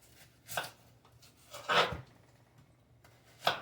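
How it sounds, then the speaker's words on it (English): A knife rough-chopping an onion on a cutting board in a home kitchen, three separate thuds spaced about a second apart with quiet pauses between them. "And then I'm just going to cut up an onion real quick."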